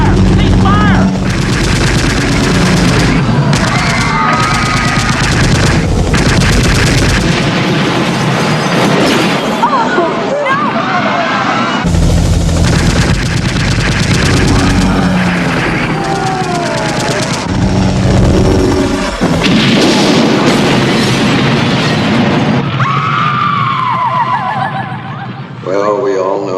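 Sustained machine gun fire in a radio drama, dense rattling bursts mixed with loud crashing and shouting voices, continuous and loud throughout with little pause.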